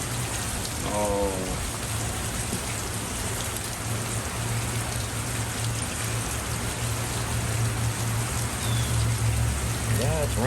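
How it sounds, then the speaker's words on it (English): Steady, dense rain falls continuously throughout, a close wash of patter on surfaces, with a brief voice heard near the start. "Yeah, it's raining. It's gonna rain all day, all weekend actually."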